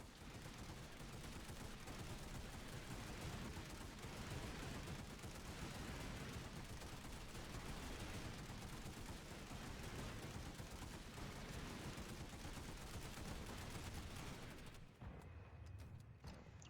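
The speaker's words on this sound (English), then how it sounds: "Now, it's time for tap bursting. Remember that what I'm doing is making the bursts shorter, and I throw in a tap or two." Rapid automatic gunfire in Planetside 2, fired in short bursts and single taps, forms a dense, continuous crackle of shots that fills the whole stretch before cutting off near the end.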